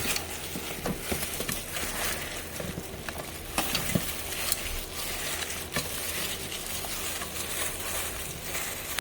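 Radish seokbakji kimchi with minced garlic is tossed and mixed by hand, producing close, wet squelching and crunchy patter in a steady, irregular rhythm with no talking.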